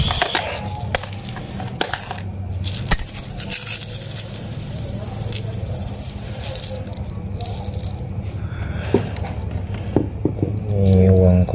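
A collection of foreign and local coins, including Indonesian Komodo coins, is sifted and handled nearby, producing sharp metallic clinks, rattles and jangling that build toward a fuller shuffle at the end.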